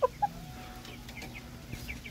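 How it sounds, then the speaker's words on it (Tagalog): A fighting rooster that has gone four days without food gives a couple of short, close clucks at the start, followed by faint background noise. "ito yung itsura ng manok na 4 days nang walang kain"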